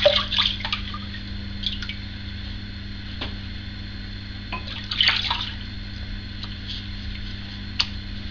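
Water dripping and splashing faintly at a sink as a face is wetted before shaving, with a few soft drips and light taps scattered over a steady low hum.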